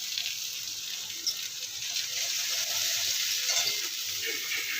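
Spicy curry sizzles and fries in a pan in a home kitchen, a continuous close hiss with small crackles and one brief stir-like bump, no voices.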